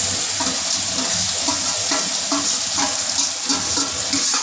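Loud, steady sizzle of chicken frying with chili powder and spices in a pan, a dense crackling hiss with periodic scraping stirs, close up and with no talking.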